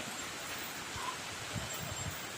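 Strong, storm-like wind roars through tall trees bending in the gusts on a cold day, a steady, dense rushing hiss with soft rustling surges and no voices.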